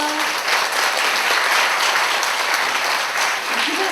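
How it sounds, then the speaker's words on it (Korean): Loud, dense applause from a concert audience welcoming a speaker to the stage fills the space continuously, a steady roar of many hands clapping together. "큰 박수로 맞아주세요."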